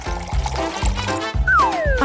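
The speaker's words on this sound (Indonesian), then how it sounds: "Tuangkan ke dalam mesin." Liquid is poured into a machine, a close gurgling trickle that splashes in short bursts and ends with a rising, whistling pitch as the container fills, heard alone.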